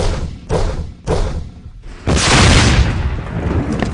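A film battle scene with a rocket launcher fired at a tank: a few heavy, close thuds, then a loud, sustained explosive blast and rumble.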